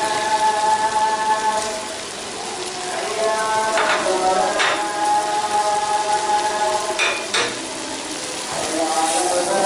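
Hilsa fish pieces fry in mustard masala and oil, a steady close hiss of sizzling with occasional soft scrapes and clinks as the fish is turned over in the pan.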